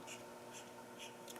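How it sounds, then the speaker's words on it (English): A marker squeaks and scratches across paper as chicken legs are drawn, a few short faint strokes repeating in quick rhythm, close up and quiet. "Then I am going to use a marker and give my chicken some legs."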